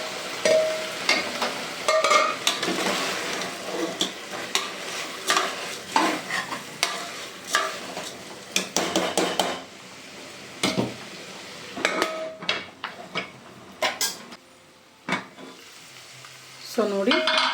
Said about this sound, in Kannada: ಇವಾಗ ಒಂದು 10 ಮಿನಿಟ್ಸ್ ಇದನ್ನು ಎಣ್ಣೆಲಿ ಫ್ರೈ ಆಗೋದಕ್ಕೆ ಬಿಡೋಣ